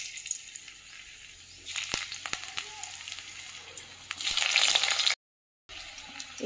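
Potatoes frying in a pan, sizzling and crackling steadily with sharp spatters, swelling louder near the end before a brief silence, then resuming.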